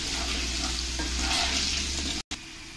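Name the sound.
potatoes frying in oil in a pan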